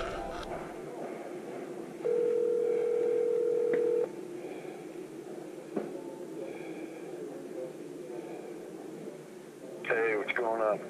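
A phone call goes out on speed dial, a steady electronic ringback tone sounding for about two seconds, then quieter line noise and a faint later tone, with someone talking near the end.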